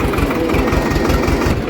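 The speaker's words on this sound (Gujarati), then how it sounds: "આપણે આ ટ્રેક્ટર છે" A tractor engine idles up close, a loud, steady, low throbbing rumble with no pauses.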